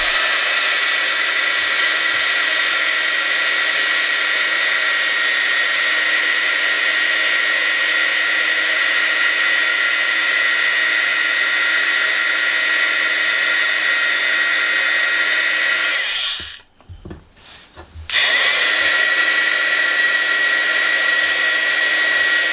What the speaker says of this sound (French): vous ne bougez pas le pistolet chauffant